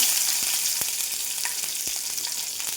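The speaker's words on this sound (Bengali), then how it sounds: "কড়াইতে তেল গরম হয়ে গেছে, দিয়ে দেব মরিচ কুচি আর পেঁয়াজ কুচি" Chopped green chilli and onion sizzling in hot oil in a wok, a loud bright hiss, close and continuous, with a few soft crackles and utensil taps.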